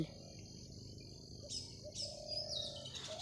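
A bird, a koel or quail, calls in a few short, clear chirps and whistled notes against a quiet background, with no one talking.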